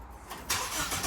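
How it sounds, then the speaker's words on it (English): A car engine with the exhaust removed at the headers cranks and starts close by, a rough rising burst of combustion noise building quickly toward a loud bark at the end. "want to hear a car without an exhaust?"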